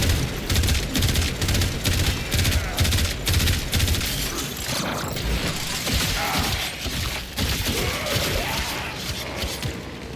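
In a video game, an excavator's mechanical clatter and grinding gears run beneath rapid bursts of enemy gunfire, loud and dense throughout with rattling volleys.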